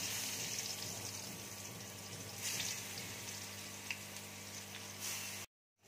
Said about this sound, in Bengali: এবার লাউটা আমি তেলের মধ্যে দিয়ে দিচ্ছি।